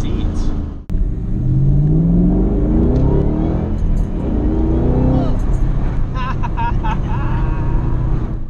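A 2011 Shelby GT500 accelerating hard with its wheels spinning through first gear: a loud, rising engine roar with tire noise, heard from inside the car under excited voices.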